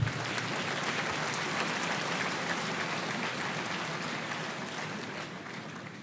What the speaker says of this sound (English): I think the applause is not enough.